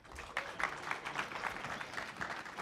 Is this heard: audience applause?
yes